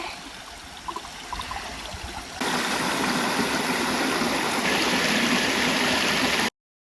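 Steady roar of rushing water from a waterfall close by at the end of a canal on Koh Kood, Thailand; quieter flowing water at first, then the sound jumps louder and fills the space with dense, constant noise.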